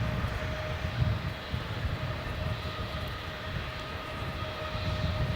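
An Airbus A350-900 airliner at Melbourne Airport rumbles in the distance, a low, steady jet roar with broadband hiss that stays fairly constant and moderately faint throughout.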